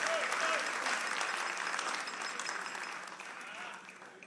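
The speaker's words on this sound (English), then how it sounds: "Shall we give a round of applause to all of the teachers?" Audience at a school quiz competition final applauds for the teachers, a broad sustained clapping from a large crowd that starts loud and slowly tapers off over several seconds.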